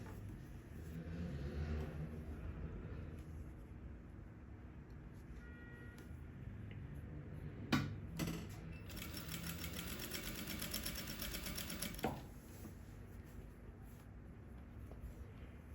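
A straight-stitch sewing machine runs steadily while stitching bias binding onto wide-leg trousers, with a fast regular stitching burst standing out for a few seconds in the middle amid low background hum.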